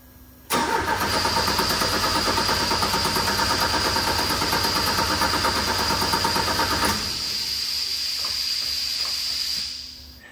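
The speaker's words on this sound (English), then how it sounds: "I started the car up and then I did a final check to make sure everything was okay." A rallycross car engine cranks and fires into a loud, steady running roar that holds for several seconds, then drops to a softer idle before cutting out near the end; no voices.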